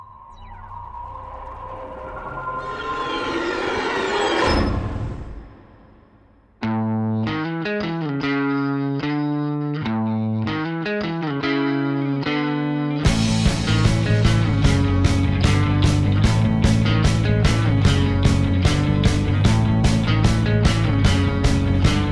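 A rock song plays loudly, opening with a swelling, distorted noisy buildup that cuts out. Driving rhythmic guitars and drums kick in next, then thicken into a dense, full-band section.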